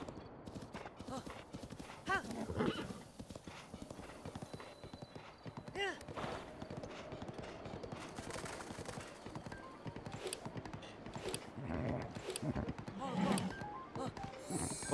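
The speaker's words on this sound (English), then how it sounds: "here we have the horse gameplay that this game is so well known for" Horse hooves clip-clop steadily in The Legend of Zelda: Breath of the Wild on the Switch 2, with an occasional whinny, quiet and under someone talking throughout.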